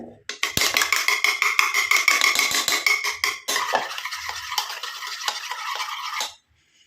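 A spoon clinks rapidly against a bowl while hair dye mixture is stirred until it turns white, steady scraping taps that pause briefly and resume before stopping abruptly.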